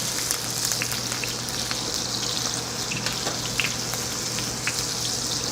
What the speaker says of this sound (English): place them right into the oil and butter